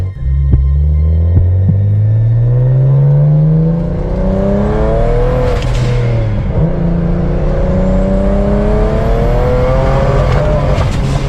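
A tuned BMW engine pulls hard at full throttle in third gear, its loud droning note rising steadily in pitch, dropping briefly at a shift-like dip, then climbing again with rising whine and throb.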